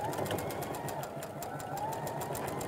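A sewing machine runs steadily and faintly, stitching a quarter-inch seam on patchwork fabric pieces with a continuous rapid whirring buzz.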